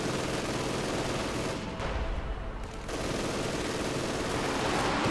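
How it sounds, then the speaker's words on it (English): An MG42 machine gun fires in Company of Heroes 2 during a 3v3 winter battle at Rzhev, a dense, continuous roar of rapid gunfire with battle noise that dips briefly mid-clip before resuming at full loudness. "MG42 opening up on the conscripts."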